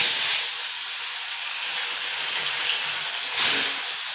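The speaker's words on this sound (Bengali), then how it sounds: "এবার মাছগুলো আমি তেলের মধ্যে দিয়ে ভাজবো।" Bhola fish sizzling in hot oil gives a steady, close hiss throughout, swelling briefly louder near the end.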